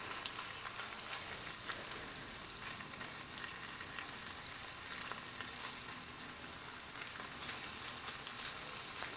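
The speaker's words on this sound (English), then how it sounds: "let this saute here and render out some of that flavor that's going to come out of that sausage" Kielbasa sausage sautéing and browning in a pot, a continuous faint, even crackling sizzle like light rain that holds steady from start to end with no talking.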